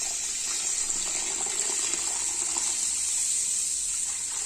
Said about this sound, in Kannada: ನೀರು ಹಾಕ್ಬಿಡೋಣಂತೆ